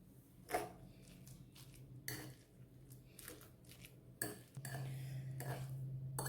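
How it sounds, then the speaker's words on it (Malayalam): A fork mashing banana and oats together in a bowl, heard as intermittent clinks and scrapes of metal against the dish with soft squishing in between, close up and quiet. "നമുക്കൊരു ഫോർക്ക് കൊണ്ട് ഈ പഴം ഓട്സും കൂടെ നന്നായിട്ടൊന്ന് എല്ലാം യോജിപ്പിച്ചെടുക്കാം"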